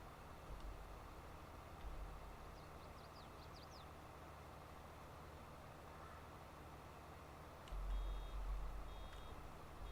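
Faint electronic reversing beeps from a farm vehicle in Farming Simulator 22 sound over a low engine rumble, with a couple of short tones near the end as the engine grows louder.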